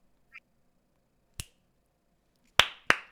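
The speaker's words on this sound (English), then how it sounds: "The snap will be the clapping sound." Sharp finger snaps ring out as three or four crisp, isolated clicks, the last ones louder and closer together, against near silence with no talking.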